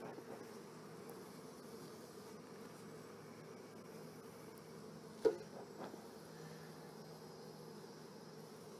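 Honeybees hum in an open hive with comb on every frame during an inspection, a faint steady drone holding throughout, broken by a single sharp knock or tap near the middle.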